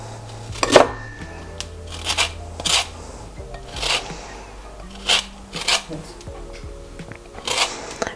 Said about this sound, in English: So just grate a little bit of the skin of the lemon.